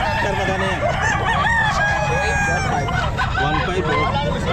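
Chickens at a pet market fill the air with loud, continuous crowing and clucking from several birds close by, while people talk underneath.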